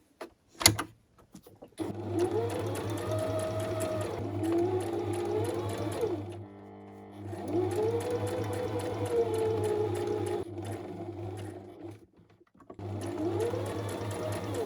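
A sewing machine runs a straight stitch through a fabric bookmark in steady, close bursts of whirring, pausing briefly between runs, with no talk.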